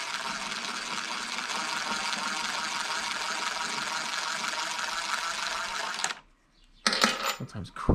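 An impact wrench runs continuously on a Honda in a rapid rattling hammer for about six seconds, close and loud, then stops abruptly before a short burst of talking.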